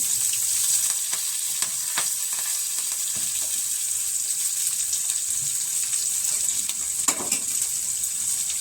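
Tomato, onion and curry leaves fry in a hot tempering, giving a steady, loud, close sizzle with a bright hiss that never lets up and occasional stirring clinks and pops, with no voices.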